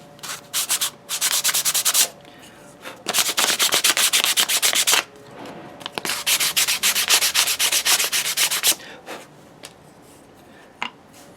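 ESEE 6 knife handle scales being hand sanded, giving close rapid scratchy back-and-forth strokes in several bursts separated by short pauses, with a few isolated rubs near the end and no talking.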